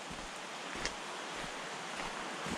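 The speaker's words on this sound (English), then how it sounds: "Can hear the river down there." A river rushes somewhere below a rainy bush track, a continuous broad wash of flowing water heard from a distance, with no talk over it.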